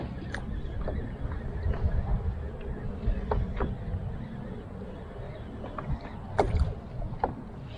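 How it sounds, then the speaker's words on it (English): A kayak paddled gently along the shore during bass fishing gives soft, intermittent paddle dips and water trickles over a steady low wash of wind and water, close and quiet. "just paddling very gently, just casting in towards shore all the time"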